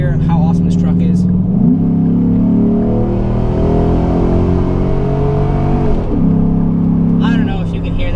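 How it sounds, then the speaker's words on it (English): A truck engine runs steadily up close and then revs up twice, the pitch climbing and holding before settling back to idle, with some talking over it. "If you guys want to hear how awesome this truck is."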